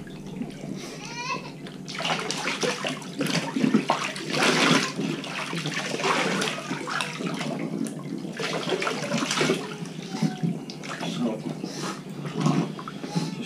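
Water runs and splashes steadily in a tub as a pug is bathed indoors, a continuous close wash of rushing and sloshing with someone talking over it and a dog whining briefly.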